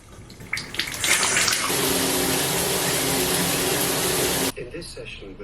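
Water rushes loudly from a shower for a few seconds, then cuts off abruptly, leaving quieter dripping and room noise.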